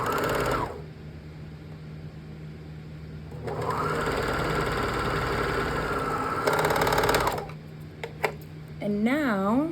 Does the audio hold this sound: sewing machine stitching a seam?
yes